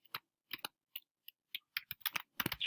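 Someone types a name on a computer keyboard, producing sparse, quiet key taps that speed up into a quicker cluster toward the end, heard alone and close.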